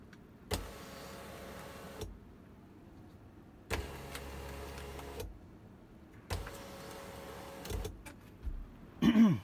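A small panoramic G6 sunroof motor run on a bench without a car battery gives three separate whirring bursts of about one to two seconds each, with short pauses between them, ending in a brief click.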